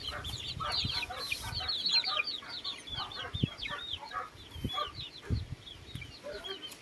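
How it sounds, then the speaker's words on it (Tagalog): Chickens cluck steadily in a busy chorus, with repeated short calls overlapping throughout and occasional louder clucks standing out nearby. "Yan yung mga alaga nating manok na pagagalain natin."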